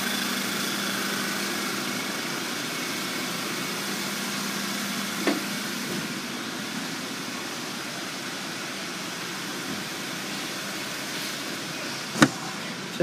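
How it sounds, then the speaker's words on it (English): A 2015 Volkswagen Tiguan SE 4Motion with a 2-liter turbo engine idles with a steady, quiet low hum, broken by a couple of faint brief clicks. "can hear there's no abnormal noises coming from the engine"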